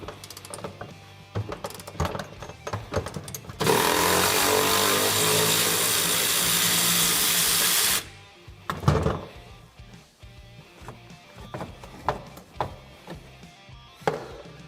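A power tool removing bolts on a Can-Am Maverick X3 during a prop shaft job, a loud sustained whir of several seconds flanked by clanks, ratchet clicks and scattered metallic knocks.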